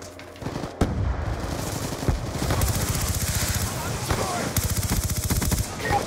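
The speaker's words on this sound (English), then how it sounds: "I'm using an LMG and I don't care." A light machine gun in Call of Duty Black Ops 2 fires rapid, sustained bursts of loud, rhythmic shots over a busy game mix, with a sharp blast near the start and a voice talking faintly underneath.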